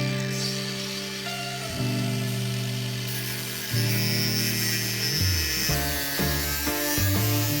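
A steady, loud power-tool whine cuts polyester filler to fit an aluminium foil retainer for an in-mast foil repair on an Amel Super Maramu, its pitch stepping up and down as the load changes.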